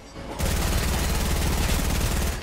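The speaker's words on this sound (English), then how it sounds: "No, I'm getting shot from behind!" Rapid automatic gunfire in a Fortnite match, a loud, sustained burst of fast evenly spaced shots that starts abruptly and runs without pause to the end.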